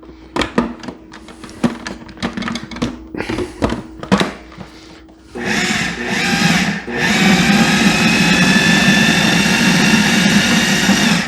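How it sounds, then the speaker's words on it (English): A food processor motor runs continuously, whirring loud and steady as it mixes pie crust dough for a two-crust 8 to 10 inch pie, preceded by a few sharp knocks and short bursts. "how powerful your processor's motor is"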